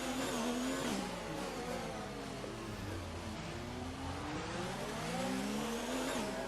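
Race cars on worn, old tyres sliding through the streets of Monaco in a racing video game, engines droning and rising and falling continuously with a steady tyre-squeal texture throughout, loud and close, no talking.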